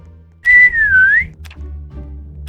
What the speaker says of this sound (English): Another whistle, and the map is shrinking.